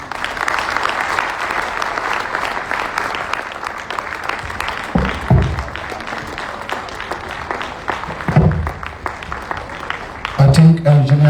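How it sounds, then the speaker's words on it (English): Audience applause rolls through a hall after the foundation day lecture at Merit House, Abuja, a loud sustained wash of clapping, with voices briefly breaking through in the middle and toward the end. "I think Engineer Dr. Uman Buba needs a better round of applause."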